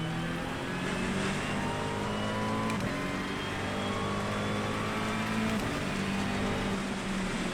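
A race car engine in the driving game Project Motor Racing drones steadily at high revs, shifting pitch as the car lifts off and brakes, loud and continuous with no talking.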